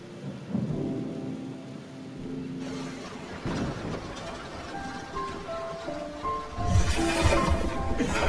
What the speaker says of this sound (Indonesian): Di tengah derasnya hujan, Brown hampir terpeleset.